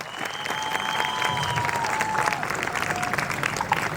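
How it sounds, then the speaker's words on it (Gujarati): An audience at a Ram Navami dance class performance gives sustained applause, a dense even wash of many hands clapping throughout, close and full, with faint voices underneath. "તો એક વાર ફરી હેતલ મેમ માટે જોરદાર તાળીઓ થઈ જાય"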